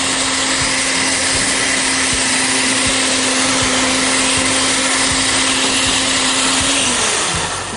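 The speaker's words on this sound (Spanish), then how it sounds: "Vamos a licuar perfectamente." A countertop blender liquefies adobo sauce for Mexican chicken adobo, made with balsamic vinegar and a cinnamon stick, roaring steadily and loudly on its own before winding down near the end.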